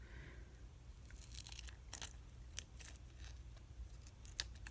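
Scissors snip through a paper butterfly dusted with mica powder, giving a series of soft, crisp cuts with a few sharper clicks, close and quiet, with no talking.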